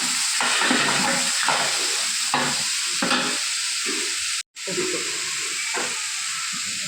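Curry leaves, onion, green chilli and tomato frying in a pan with salt, a continuous loud hissing sizzle broken by several stirring scrapes, with no talking.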